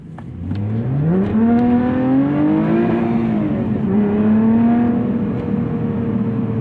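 A 2021 Lotus Evora GT's engine revs up while driving, its pitch climbing strongly, dipping briefly at a shift and then rising again in a loud, close, sustained roar.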